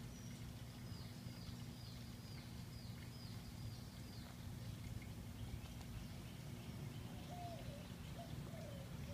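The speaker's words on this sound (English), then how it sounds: "It's very relaxing if you listen to the waterfall and the birds." Birds in a garden with a waterfall: faint repeated chirps and short calls sit over a constant, loud rush of falling water, with no voices.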